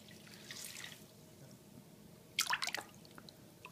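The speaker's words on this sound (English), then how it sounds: "Jimmy, you taking a bath?" Water splashing and dripping in a bath, a quiet background followed by a short burst of bright splashes near the end, with one final splash right at the close.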